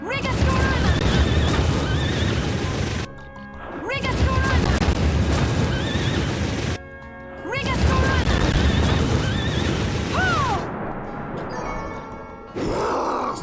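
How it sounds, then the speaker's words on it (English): Horse enemies in the video game Bloodstained neigh and whinny repeatedly amid loud game music and impacts, with a few brief pauses between bursts. "there's absolutely a reason why you want to keep on attacking these horses."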